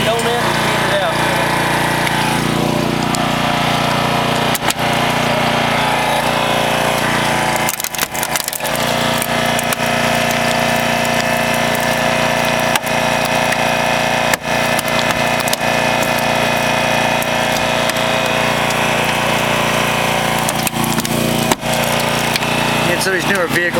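A Holmatro hydraulic spreader tears through the metal of a newer vehicle during a fire department rescue training. A steady, loud mechanical drone runs throughout, with sharp cracks and snaps as the metal gives way. Voices talk intermittently.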